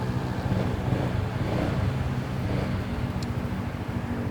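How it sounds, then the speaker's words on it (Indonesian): A 250cc Yamaha Xmax 250 or Honda Forza 250 automatic scooter idles smoothly at about 1500–1600 rpm, a steady low close-up engine hum with no talk. "Langsung kita nyalain motornya dan kita dengerin suara langsamnya nih."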